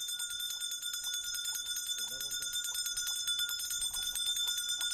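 A bell is rung over and over to call peacock pigeons, making a fast, even run of bright ringing strikes that carries on throughout, with a brief voice partway through.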